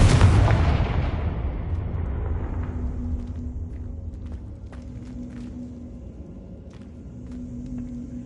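Confringo explosion spell in the Hogwarts Legacy video game: a loud, heavy blast that fades into a long low rumble and a steady hum, with faint crackles scattered through the tail.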